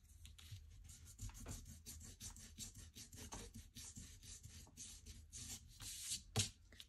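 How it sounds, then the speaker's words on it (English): A gum eraser scrubs sticky adhesive residue off planner paper in quick, close, rasping strokes, quiet and irregular with no talking. "This is a gum eraser."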